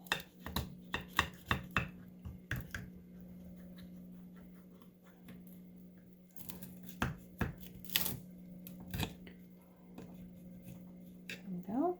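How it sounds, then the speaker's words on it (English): A knife cuts into a cooled, runny homemade blueberry pie, giving bursts of soft crunching taps against the crust and dish, with a quieter pause in the middle, over a steady low background hum. "And go ahead and start cutting the pie."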